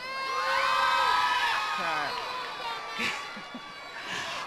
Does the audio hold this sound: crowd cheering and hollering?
yes